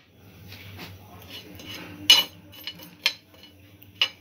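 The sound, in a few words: dry roasting whole spices in a pan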